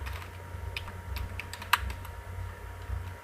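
Keys on a computer keyboard click in quick, uneven taps at close range over a low steady hum, with one sharper keystroke standing out.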